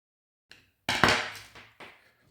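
A Phillips screwdriver tightens the pivot screw on a Mondial electric fan, giving a few close, sharp clicks and knocks: one light tap, then a louder cluster of scraping turns and a final click.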